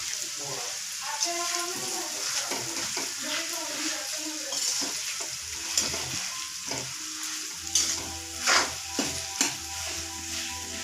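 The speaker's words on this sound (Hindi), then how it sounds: "आलू डालेंगे इसमें और अच्छे से मिक्स कर लेंगे।" Potatoes stirred and mixed in a hot pan for aloo patties, a continuous sizzle broken by repeated scraping and clinking of a spoon against the pan, with a few sharper knocks near the end and no talk.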